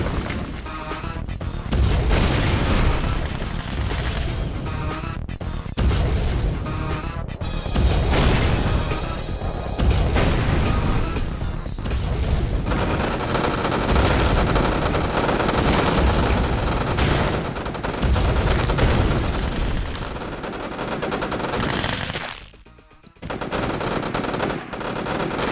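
Red Alert 2: Yuri's Revenge online multiplayer battle, dense and continuous cannon fire, rapid gunfire and explosions layered over game music for about 25 seconds, with a brief lull near the end.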